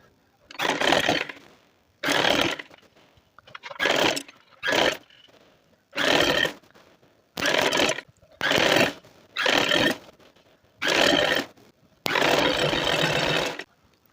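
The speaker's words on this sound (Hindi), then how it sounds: "ये हमने साइडों की सिलाइयाँ लगानी है।" A sewing machine stitches the side seams of palazzo pants in about ten quick whirring bursts, separated by short pauses, ending in one longer run.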